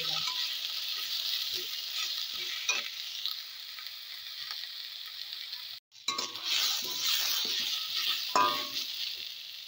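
Onion and green peas fry with a steady soft sizzle while a utensil clinks and scrapes against the pan in irregular strokes, close and fairly quiet, with a brief dropout midway.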